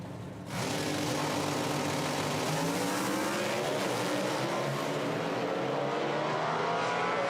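Top Fuel drag cars on a drag strip at an IHRA Outlaw Nitro event roar to life after a brief quiet moment, then a loud sustained engine blast continues to the end, with pitch rising under acceleration.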